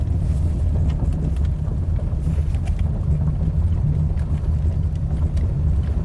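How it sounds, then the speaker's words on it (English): A Lexus that will not back up holds a loud, steady low engine drone in reverse while the car stays put, with wind-like rumble throughout and no talking. "So RPMs go up and it doesn't want to go."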